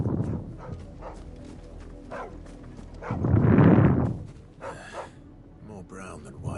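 A dog in the Final Fantasy XVI video game gives a loud bark or yelp in the middle, framed by a person talking softly before and after it.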